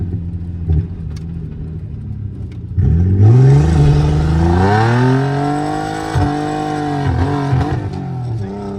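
Turbocharged Nissan VQ35 engine on a dyno, revving hard and climbing in pitch before cutting off repeatedly at the rev limiter with stuttering drops, loud and close, no talking over it.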